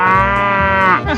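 Cow in a 3D animal slide game gives one loud, drawn-out harmonic moo lasting about a second, alone and close.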